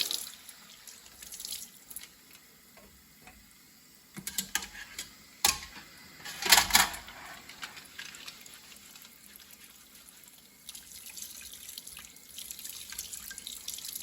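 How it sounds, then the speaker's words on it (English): Cold water runs from a faucet into a sink, splashing louder for a few seconds as a dirty toy train flat car is rinsed, then settling back to a steady trickle. "Just rinse it off with just a little bit of cold water."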